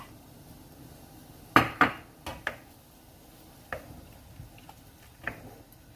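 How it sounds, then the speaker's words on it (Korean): Several sharp clunks and knocks of radish pieces dropping into a pot of boiling water for dried pollack soup, a few close together followed by softer scattered taps. "준비해 놓은 무를 넣습니다."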